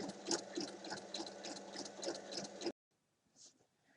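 A sewing machine stitches fabric for a storage basket, a fast steady mechanical chatter close by for a few seconds, then stops abruptly into near silence.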